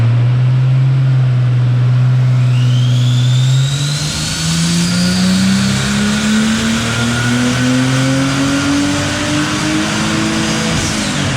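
BMW 635csi with a turbocharged engine revving hard and accelerating, a loud, close engine note climbing steadily in pitch over several seconds with a rising turbo whine above it, no talking.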